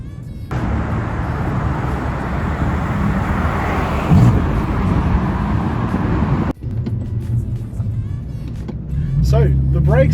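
BMW F82 M4 CS engine under way, a steady buzzy drone with a thin, busy, sewing-machine-like character; the note breaks briefly, then climbs again beneath someone talking over it.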